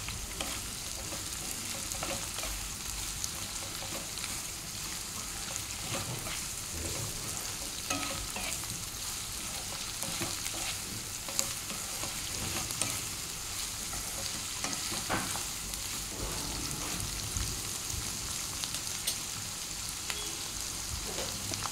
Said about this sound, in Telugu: ఆనియన్స్ బాగా వేయించాలి సాల్ట్ వేసి.